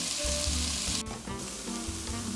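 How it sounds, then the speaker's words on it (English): Onion sweating and sizzling in a pan with browned fond for beef stroganoff, a dense continuous hiss close up, with a brief stir or shift midway and faint low clatter underneath. "So that onion is going to sweat in there, help to deglaze the pan as it goes"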